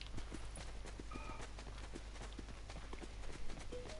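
Footsteps in the Call of Duty Blackout battle royale mode: a steady, rhythmic series of fairly close steps running throughout over a constant background drone.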